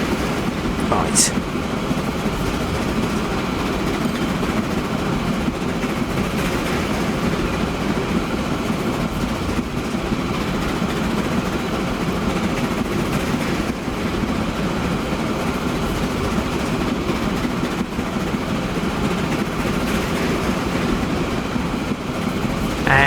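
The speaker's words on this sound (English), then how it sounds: "You can see a train coming in." A freight train runs in the Transport Fever 2 video game, producing a steady, unbroken rumble with faint rail clatter that stays at a constant level throughout.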